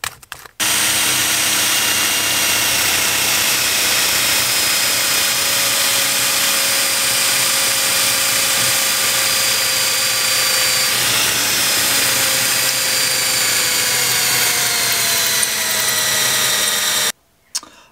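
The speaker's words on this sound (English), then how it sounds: "we're going to need to drill into this hole" A power drill runs continuously at high speed for most of the stretch, loud and close, its whine holding steady with slight pitch shifts before cutting off.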